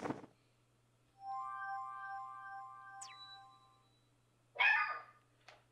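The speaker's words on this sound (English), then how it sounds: "She barks at anything" A dog barks a few times, sharp close yelps near the end, over a steady hum and game music tones while a Super Mario Bros. Deluxe session plays.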